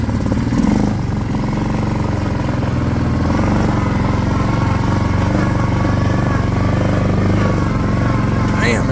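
An old Yamaha Grizzly 600 ATV runs with a steady, rough mid-pitched engine drone after a carburetor replacement, loud and close throughout with no break in the motor noise.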